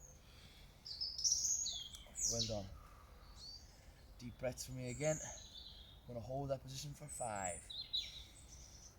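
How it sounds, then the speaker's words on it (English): Birds singing outdoors, faint high chirps and short trills scattered through the background while a person talks steadily over them, giving instructions. "We hear the birds singing in the background."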